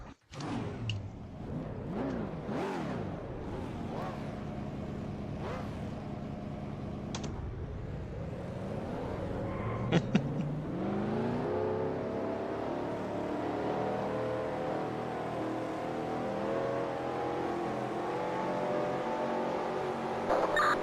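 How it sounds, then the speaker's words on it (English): Race car engines in a racing video game fire up and rev, a dense layered roar of several motors with rising and falling pitch sweeps, building into a sustained loud drone. "Drivers, start them engines!"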